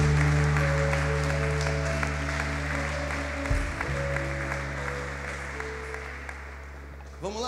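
A church congregation claps steadily together for several seconds, the applause dense and even, then gradually thinning out while a low organ or keyboard tone sustains underneath.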